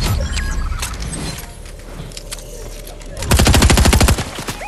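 Rapid bursts of automatic gunfire and shots from a Fortnite match, with scattered pops early on and a loud, dense volley of close rapid fire near the end.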